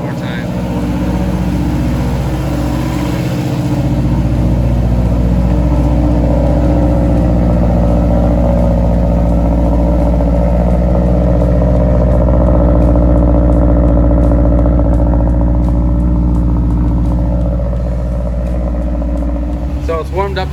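A big-turbo 2005 Subaru STI idles steadily with a deep, continuous exhaust rumble and light clatter heard close up, holding a constant level throughout with no talking.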